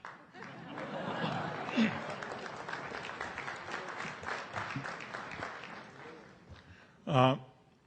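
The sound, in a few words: audience applause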